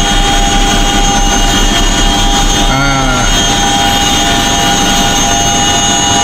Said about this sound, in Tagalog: Mababa lang naman yung helicopter.